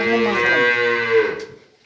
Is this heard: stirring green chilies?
no